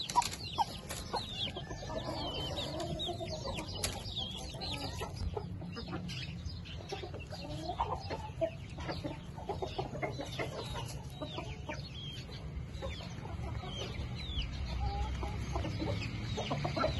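Chickens clucking steadily at close range, with scattered short calls over a low background rumble, no voices.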